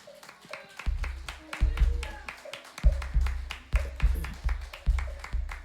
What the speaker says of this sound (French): nous demandons à l'Église non seulement à applaudir